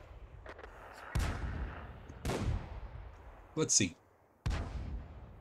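An enemy firing in a video game, with several booming gunshots spaced out and fading into echoing tails, fairly loud over a low background, and a brief voice in between.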